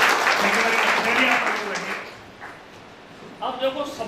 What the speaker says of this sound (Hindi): इनके लिए तालियां बजाओ